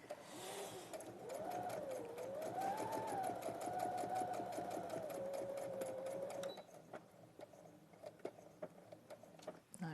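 A sewing machine runs steadily at close range, its motor whine rising and falling in pitch with a rapid needle clatter as it sews a back stitch, then slows to a few softer knocks near the end.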